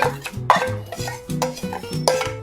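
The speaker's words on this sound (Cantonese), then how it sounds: "撈勻佢哋。 攪勻佢。" Chicken wings being stirred with a garlic sauce in a bowl, a few wet clacking scrapes against the bowl with strong ringing background music over them, no talking.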